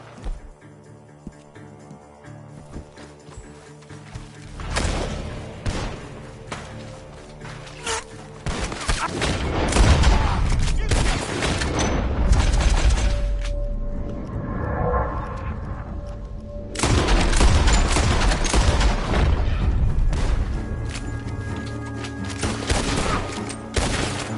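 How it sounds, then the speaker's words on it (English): Heavy bursts of rapid gunfire in Red Dead Redemption 2, coming from a barn, with booms and thuds, swelling louder and denser over time in a chaotic, sustained barrage. "The gunshots are coming from that barn!"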